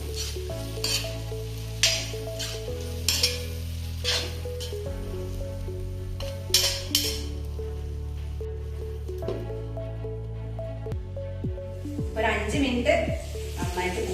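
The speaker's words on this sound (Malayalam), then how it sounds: "ഒരു അര ടീസ്പൂൺ ഗരം മസാല വിതറി കൊടുക്കുക എന്നിട്ട് നന്നായിട്ട് ഇളക്കിയതിന് ശേഷം" Chicken fries in a pan for a Trivandrum-style chicken fry as garam masala is sprinkled in and stirred, with steady sizzling, scraping stir strokes and a voice talking over the cooking.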